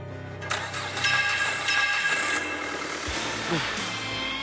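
A car engine cranks and catches after a mechanic's repair, then settles into a steady running hum that continues to the end without talk.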